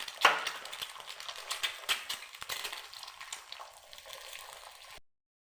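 Eggs drop into a deep pan of barely heated oil for scrambled eggs, giving a steady close sizzle with sharp crackles and pops that fade slightly toward the end.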